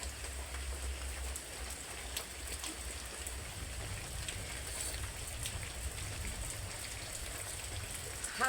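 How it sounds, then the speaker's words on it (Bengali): Rain falls on a kitchen roof in a steady, even patter with a low rumbling wash beneath it. The sound holds consistent for several seconds, without voices. "ওপর থেকে বৃষ্টি পড়ে, রান্নাঘরের চালটা না এবার সারতে হবে।"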